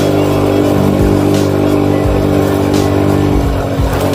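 A motorcycle engine drones loudly and steadily on a rough, rutted transmigration-style road, holding a constant hum with slight rises in revs and a few bumps from the uneven surface.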